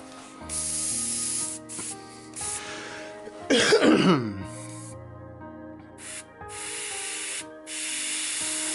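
An airbrush spraying airbrush paint thinned about half and half, used on a Kingdom Death Dragon King miniature: short bursts of hissing air, one louder rushing spray in the middle, with quiet gaps between.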